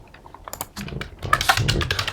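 Quick bursts of typing on a computer keyboard while entering an email address, close and fairly clear, with irregular clicks speeding up toward the end.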